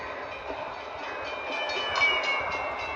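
A steady rumbling HO scale model train sound effect of a city background: a train passes nearby with a faint rhythmic clatter and a hint of a horn, forming a continuous wash with no talking.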